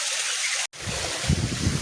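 Wind rushes across the microphone in a loud, rough broadband roar that briefly cuts out, then returns with low buffeting gusts.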